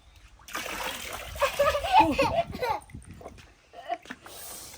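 Water splashes and slaps in uneven bursts as a child is bathed at home, close and fairly loud, with an adult talking and a voice throughout.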